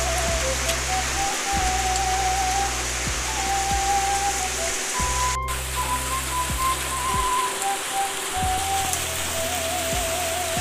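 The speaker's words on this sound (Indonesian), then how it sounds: "Tiada hari tanpa hujan kawan." Steady rain in the rainy season pours down onto surfaces nearby, a continuous hiss with dense pattering drops and a low hum running underneath.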